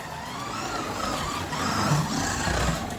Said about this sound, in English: Let's try it here. Yeah, lovely drifts.